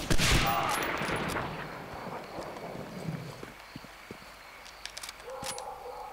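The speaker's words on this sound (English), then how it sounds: "Look at him just taking pot shots at me." Enemy soldier's gunfire in Medal of Honor Frontline, a burst of loud shots at the start fading into scattered sharp pops and cracks over a noisy battlefield wash.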